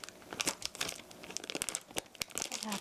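Plastic piping bag for churros being handled, giving a steady run of close, crisp crinkling and rustling with brief sharper crackles throughout, no voices.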